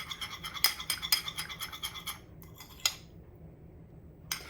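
Virgin coconut oil mixture being stirred in a bowl for a hair treatment, a utensil scraping and clinking against the sides in quick repeated strokes, close and fairly quiet, pausing near the end before one last scrape.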